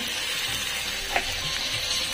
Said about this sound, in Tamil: கடகரன்னு கட் பண்ணி அப்படியே போட்டு எல்லாம் வதக்கிட்டு